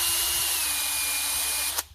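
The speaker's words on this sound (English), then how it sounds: "on the hole itself, I used a drill with a sanding pad." A power drill fitted with a sanding pad spins inside a rusty hole in a Lexus GS300 rear suspension during control arm bushing work, giving a steady close whir that cuts off abruptly near the end.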